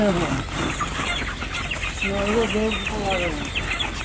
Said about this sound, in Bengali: এখান থেকে আমাদের মুরগি ধরে দিচ্ছে